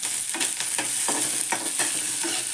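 Chopped onions sautéing in a hot pan, a steady bright sizzle broken by regular scraping stirs roughly every half second, close and continuous with no voices.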